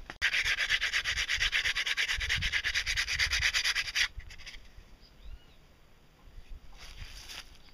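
Steady, loud rubbing of sandpaper on a handmade fiberglass propeller for about four seconds, then a quieter pause and a brief softer scrape near the end.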